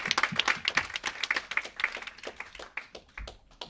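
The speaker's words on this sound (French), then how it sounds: "Je vous demande de l'applaudir très très fort" Audience clapping for Prince Charles Napoléon Murat at an award ceremony, a quick scatter of individual hand claps that thins out and tapers off over a few seconds.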